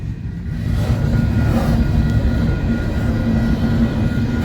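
An empty westbound coal freight train of COLX and EDGX cars passes in Fremont, Nebraska, making a steady, close rumble with rail squeal and clatter that builds after a quieter start and holds.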